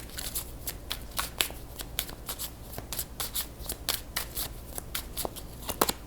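Tarot cards shuffled in a steady run of crisp riffling bursts, close and fairly quiet, for several seconds with no talking.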